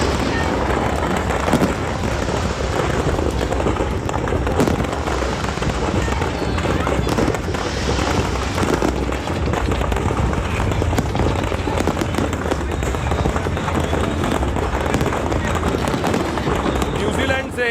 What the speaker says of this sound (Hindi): आतिशबाजी आप देख रहे हैं,